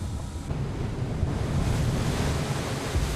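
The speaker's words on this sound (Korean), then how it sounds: "3~4m의 거친 파도가 치는" Rough 3–4 m seas under a storm warning, heard from a fisheries patrol vessel at sea. A continuous roar of crashing waves mixes with buffeting wind noise on the microphone.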